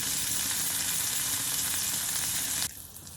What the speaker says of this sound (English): I usually shallow fry them for a few seconds each side